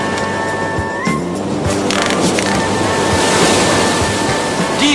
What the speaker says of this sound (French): Le vent change, c'est la tempête